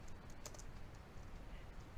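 Fingers type CSS code on a computer keyboard in a steady, close patter of light key clicks, with no one talking.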